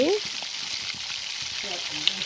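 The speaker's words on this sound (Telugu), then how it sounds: "నూనె కాగిలిందండి పోపు దినుసులు వేసుకోవాలి" Tempering spices frying in hot oil for a beetroot fry, a bright continuous sizzle with a few soft stirring clinks and a faint voice in the background.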